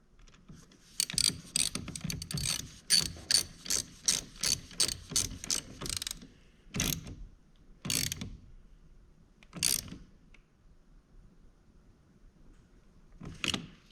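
Ratchet tightening a 10mm nut on the negative battery cable of a GMC 2500 HD, a fast run of close, crisp clicking bursts followed by a few slower separate strokes.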